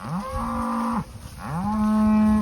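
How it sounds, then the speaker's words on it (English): Cattle moo loudly and close by as a small bunch of steer pairs is moved up to a rented summer pasture above a reservoir, two long drawn-out bellows separated by a brief gap. "moving this little bunch of steer pairs up to a pasture I have rented above a reservoir"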